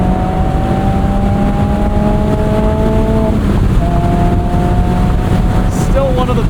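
A Mazda MX-5 Miata ND3 engine revving while driving, a steady loud drone with rising pitch that dips briefly at a gear change before climbing again, heard from inside the car under road noise.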